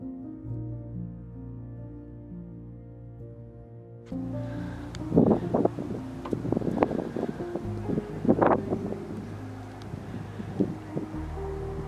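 After a low tonal hum, gusty wind buffets the microphone with rough, irregular rumbling blasts, close and fairly loud, outdoors in freezing, snowy high desert weather.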